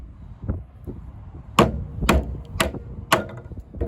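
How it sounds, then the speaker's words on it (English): A Kizer fixed-blade knife with a D2 steel blade is batoned through hardwood. Softer taps come first, then four sharp, evenly spaced wooden thwacks close by, with no talk. "a little bit of horizontal batoning"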